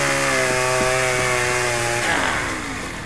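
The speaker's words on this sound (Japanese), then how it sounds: "チェーンソーだったーん。" A chainsaw from the video game Propnight drones with a steady buzzing engine tone, then shifts pitch and tapers off toward the end, heard alone.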